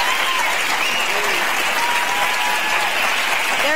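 Studio audience at a live morning talk show cheering and applauding, a dense, steady wash of clapping and whoops filling the whole stretch at close range, with a few voices calling out above it.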